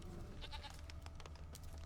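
Goat bleats in The Witcher 3 video game: a few short, wavering animal cries repeat over a steady low game ambience, moderately close, with no talking.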